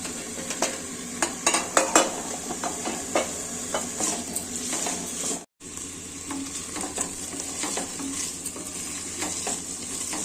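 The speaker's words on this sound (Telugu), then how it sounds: "క్యారెట్, కాలీఫ్లవర్ అన్నీ వేయించుకోవాలండి నెయ్యిలో" Potato, carrot, cauliflower and capsicum fry in ghee for masala khichdi, a constant sizzle punctuated by frequent spoon scrapes and clatters against the pan, briefly cut off midway, without speech.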